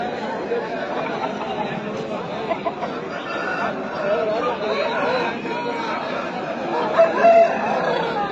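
Chickens and a rooster call amid the steady, bustling chatter of a Sunday pet market crowd in Pileru, with occasional louder squawks rising above the continuous hum of voices.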